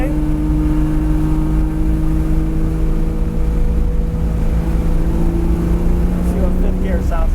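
A Ferrari 330 GTC engine drones steadily inside the cabin while driving in fifth gear, a loud continuous hum with road and wind rumble that rises slightly near the end.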